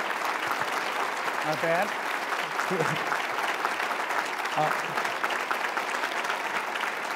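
A business-community audience applauds Mayor Mike Duggan with steady, dense clapping throughout, while someone briefly speaks over it.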